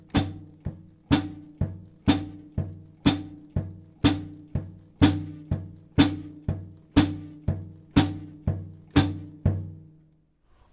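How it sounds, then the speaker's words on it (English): Steady jazz drumming at a slow tempo, with a very light bass drum on every beat and sharp, strong hi-hat strikes cutting through on alternating beats. "very light 4 to the bar on the bass drum with the hi-hat nice and strong and consistent"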